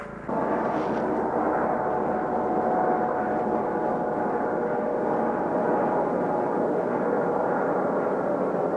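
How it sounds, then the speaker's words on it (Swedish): Steady, loud whirring drone of a helicopter flying over in a shooter video game, holding constant throughout after a brief quieter start, with no speech. "De skickar helikopter på oss."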